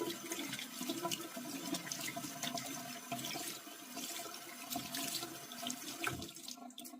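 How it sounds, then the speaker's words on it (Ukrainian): Tap water runs steadily into a sink as a large, dense face-washing wipe is rinsed under it, a close, continuous splashing hiss with no talk. "Дістаємо і водичкою виполіскуємо повністю, щоб серветочка була чистенька."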